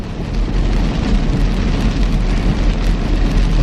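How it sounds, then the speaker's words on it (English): Steady heavy rain falling on a day of driving in traffic, a dense continuous hiss with low rumble, loud and close. "Rain, rain, go away."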